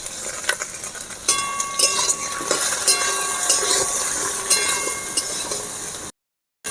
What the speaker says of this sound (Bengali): এবারে আমি বেগুন ভেজে নেব।